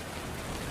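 Steady rain falling on surfaces outside a roadside waiting shed, a dense even hiss heard briefly with no voices.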